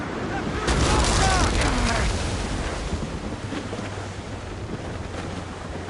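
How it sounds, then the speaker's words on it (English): Wind gusting over open sea in the game Assassin's Creed Rogue, a steady broadband rush with waves and a swell that peaks early then settles, while a voice speaks over it. "That wind's trouble, Captain Cormac"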